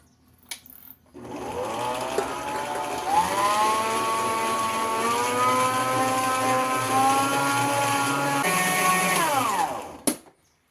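An electric mixer whips egg whites with sugar for a caramelized banana cake, a steady close motor whine with a slight pitch shift partway through. It runs for about nine seconds, then stops with a clatter.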